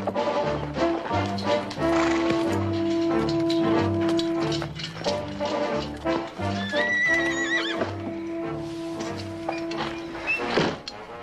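A horse whinnies while hooves clip-clop steadily, with sustained tones and other noises running underneath throughout.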